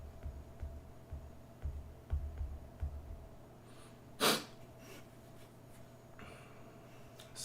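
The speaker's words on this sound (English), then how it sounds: "Excuse the sniffling." Quiet sniffles from a person with a slight cold, a few soft nasal intakes followed by one sharper sniff or snort, close and faint.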